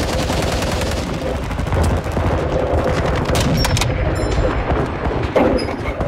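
Dense, continuous gunfire from Call of Duty Modern Warfare fills the whole stretch, with rapid automatic bursts and sharper single shots layered over a busy, loud battlefield mix.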